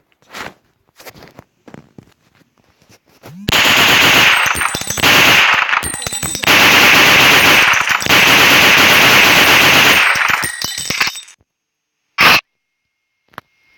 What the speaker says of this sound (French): nous allons partir sur une mitraillette allemande qui est en vrai comme ça